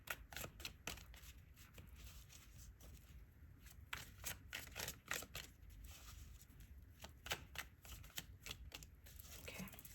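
A tarot deck is shuffled by hand in quick repeated riffles and slides, a soft close-up flutter of cards with no voice, faint and steady throughout.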